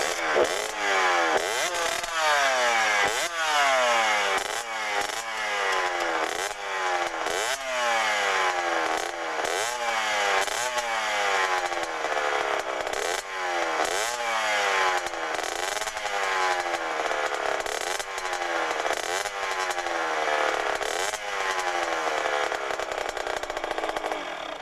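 A motorcycle engine, ridden by a new rider learning the clutch, revs repeatedly in a steady cycle of rising, whining blips, loud and close, running for over twenty seconds without talk.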